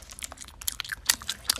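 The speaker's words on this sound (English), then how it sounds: "Stop chewing so loud." Loud, close chewing of gum, with wet smacking and clicking bites in quick irregular succession.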